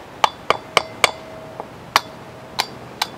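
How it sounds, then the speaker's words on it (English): A hammer strikes a 2x4 block to tap a new wheel bearing seal onto a travel trailer spindle, giving about eight sharp woody knocks in an uneven rhythm, close and clear with no speech. "got my hammer, 2x4, and we'll tap,"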